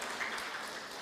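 A church congregation claps briefly at a sermon, a soft, even spatter of hands with no voices over it.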